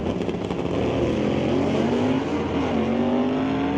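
Drag racing cars in the BC McLeod Super Shifter semifinals at Mission Raceway Park launch down the track with a loud, steady engine roar whose pitch climbs as they accelerate.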